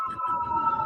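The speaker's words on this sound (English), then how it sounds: "Sirens." A wailing emergency siren in Los Angeles holds a steady high tone, fairly close, over low background traffic rumble.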